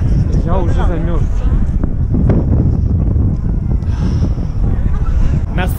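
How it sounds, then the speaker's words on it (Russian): Strong wind at an outdoor Santa Claus parade in Toronto roars against the microphone in loud, continuous buffeting, with people's voices heard under the gusts. "Ветер. Что-то там, где больше народу, такое ветрище."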